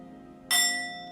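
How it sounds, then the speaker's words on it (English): A yoga bell is struck once, giving a bright metallic ding with a clear shimmering ring that decays slowly over a soft background hum. "I'll play the bell 3 times before we say namaste"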